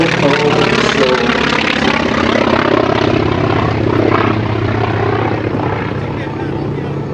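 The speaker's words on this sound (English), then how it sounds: "it's a huge airplane for a trainer, but remarkably light on the controls" A T-28 Trojan trainer airplane performs at an air show, its propeller engine producing a loud, steady, dense roar that holds throughout and fades slightly toward the end.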